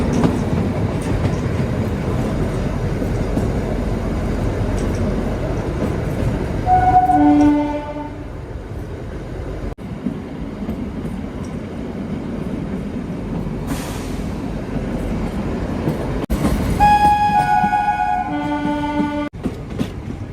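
The Shivalik Deluxe Express running downhill from Shimla toward Kalka, rumbling steadily at low speed with wheel clatter, while its horn sounds twice in separate blasts.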